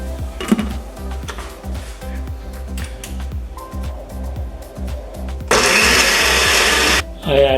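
A kitchen blender purees a jerk chicken marinade. After a stretch of quieter rhythmic background sound, the motor bursts on loud and close with a roaring whir for about a second and a half, then cuts out.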